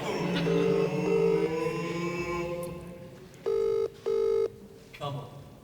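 A phone call rings out to Charlie's phone, with two long electronic ring tones and a shorter third one, following a stretch of steady tonal background.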